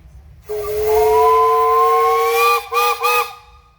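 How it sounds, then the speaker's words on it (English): A steam traction engine whistle blows one long steady blast, then two short toots, loud and close, with a low rumble underneath, at a steam engine parade. "How about a whistle there, Norm?"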